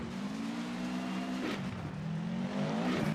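A rally car engine in Richard Burns Rally with realistic audio mods drones steadily at close range, its pitch dipping briefly mid-way as if shifting gear, then climbing again under hard revving.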